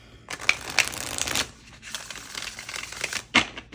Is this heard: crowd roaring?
no